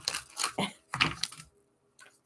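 A few quick bursts of papery riffling and flicking as tarot cards are shuffled, close by and moderately loud, separated by brief pauses, ending with a short soft rustle.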